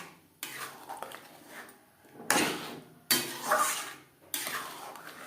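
Kashmiri aloo dum gravy thickened with nuts is stirred in a pan over high to medium flame. Close, irregular scraping and sloshing strokes come in bursts, with several sharp knocks of the spoon against the pan.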